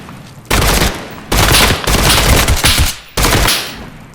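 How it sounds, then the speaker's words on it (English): Gunfire in the VR shooter Geronimo: loud, close bursts of automatic fire in three long volleys separated by short pauses. "Who's shooting at me?"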